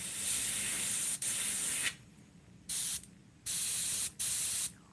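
An airbrush gun spraying acrylic paint onto a stretched canvas, giving close, loud bursts of airy hiss in about five spurts of uneven length, separated by short silent gaps.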